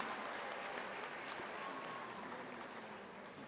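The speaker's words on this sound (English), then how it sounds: "Let us give them all a heartfelt round of applause for their unwavering dedication to our students and our school community." Graduation ceremony crowd at a charter school claps for staff, a dense, even patter of applause heard quietly at a distance throughout, with no one speaking over it.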